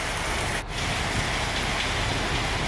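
Steady rain falls continuously in Ajnala, Punjab, a dense even hiss of drops with one brief dip partway through; no voices.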